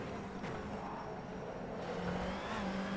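A BTCC Honda Civic Type R with a 2-litre turbocharged engine in rFactor 2 at Donington Park, a quiet, steady engine drone holding under light load through a chicane.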